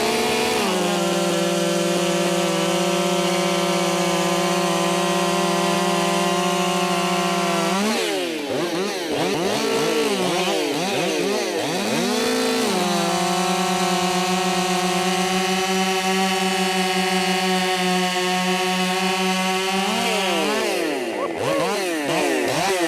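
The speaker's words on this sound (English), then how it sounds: "Same chain on both saws." Two chainsaws, a Redmax GZ5000 and an Echo 4910 running the same chain, race through wood: a loud, close, high-revving buzz with repeated bogging and re-revving dips as each cut bites, continuous throughout with no talk.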